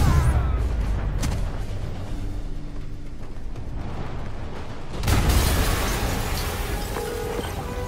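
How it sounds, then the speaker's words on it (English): Explosion in the Spider-Man video game, a sudden loud boom bursting in after a quieter rumbling stretch and rolling on with a sustained roaring crackle. "an explosion just"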